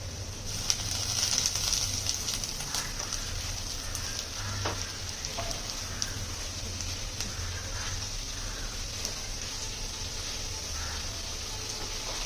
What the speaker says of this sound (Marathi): भाजी मी एकदा हलवून घेते.